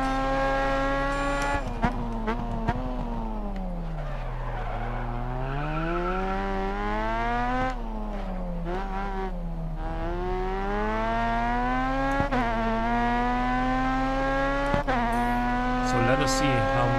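A race car in GRID Autosport drives with a steady, loud engine drone that rises and falls through gear shifts and braking, with brief tire squeals along the way.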